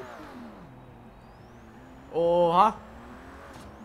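A 1981 BMW M1 in Forza Horizon 3 revs sharply toward 9000 rpm in one short, rising engine burst over a steady idle hum, while someone talks and exclaims over it.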